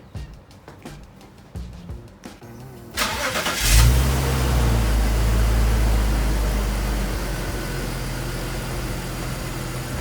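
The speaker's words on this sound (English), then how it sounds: "Turn on the vehicle." A car engine starts with a loud crank, then settles into a steady, close idle that continues to the end, after some quiet clicks and handling noises beforehand.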